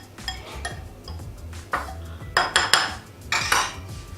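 Sprouts salad being tossed in a bowl: a spoon clinks and scrapes against the dish in irregular bursts, close and fairly loud, with brief pauses between strokes.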